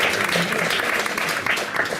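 Applause from a gathering of an association of Catalans at a talk on the rule of law, a steady dense patter of clapping filling the whole stretch at moderate loudness.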